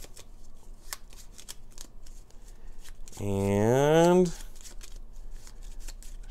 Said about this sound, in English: Now we're going to take these, shuffle them up.